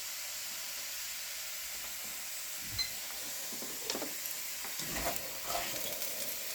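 Potato peelings fry in a skillet, a quiet steady sizzle with a few louder pops and crackles as they cook, heard close and alone.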